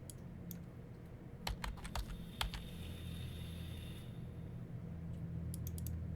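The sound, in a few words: typing on a computer keyboard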